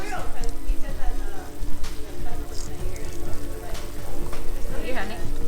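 Hot pot broth simmering at the table among friends and family, a steady close bubbling and sizzling hiss beneath overlapping conversation.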